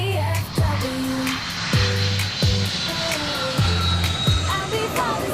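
Aircraft noise at Dallas Love Field airport, a broad steady roar of a plane engine from a spotting position, with repeated sharp bursts and faint higher tones layered over it, no one talking.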